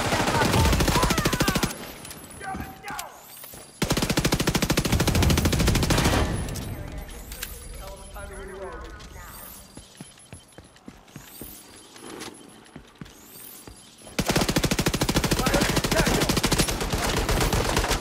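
Rapid automatic gunfire from the video game The Division 2, with loud dense bursts at the start and end, lighter scattered shots and clatter in between.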